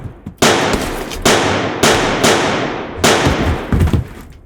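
Four sharp, loud gunshots ring out close by in a dramatized shootout, spaced roughly a second apart, each with a long decaying echo that trails off before the next shot.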